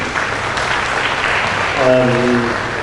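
An audience at a panel discussion on life at BITS claps steadily for a praised alumnus, a sustained patter near the listener, with a brief tonal voice rising over it near the end.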